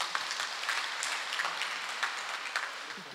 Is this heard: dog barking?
no